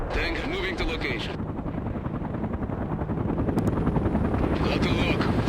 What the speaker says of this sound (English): Mi-24 going in at full speed.